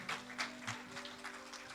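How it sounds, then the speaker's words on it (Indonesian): A church congregation at GBI Wisma AKR claps together for a few seconds. The applause comes in scattered, uneven bursts and stays fairly faint. "Tepuk tangan dulu buat Tuhan kita"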